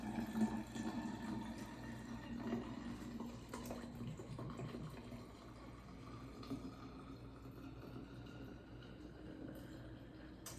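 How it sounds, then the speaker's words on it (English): Water is poured into a container holding glitter, making a faint, continuous trickling and bubbling that stays soft and steady throughout. "I'm going to add some more water as the bubbles are starting to die down"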